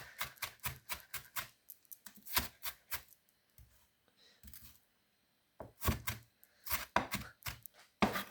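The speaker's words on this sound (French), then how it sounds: "on va couper les oignons" Onions are chopped with a knife on a board, heard as rapid, close, crisp knocks in bursts with short pauses between them.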